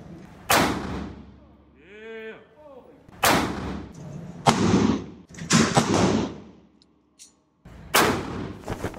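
Gunshots at an indoor shooting range, loud sharp reports at about 0.5, 3.3, 4.5, 5.3 and 8 seconds, each with a reverberant decay, while a voice briefly speaks between shots.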